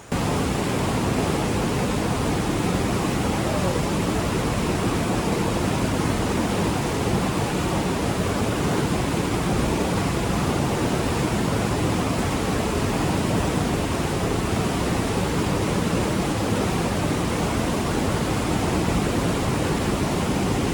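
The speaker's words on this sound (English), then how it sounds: "Let's go to this waterfall and go for a swim." A steady, dense roar of rushing water fills the whole stretch, unchanging and loud, a Costa Rica waterfall heard up close with no voices.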